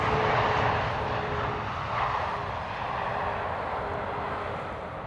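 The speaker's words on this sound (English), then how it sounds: "we're missing out on EasyJet landing behind us" An EasyJet airliner lands at Amsterdam Schiphol Airport, heard as a steady, broad, rumbling jet roar that holds for several seconds and fades slightly toward the end.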